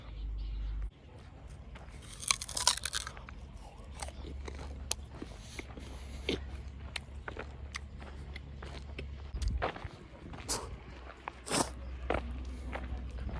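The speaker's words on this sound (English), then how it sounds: "bite off a chunk, chew it, like swallow the juice, and then you spit out the pulp" Someone bites and chews raw sugar cane in Jinja, Uganda, with sharp crunching snaps and wet chewing sounds spread irregularly over a quiet, close background.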